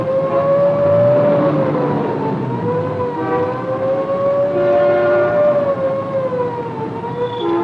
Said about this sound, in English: Somewhere out there is an ambulance with a mission.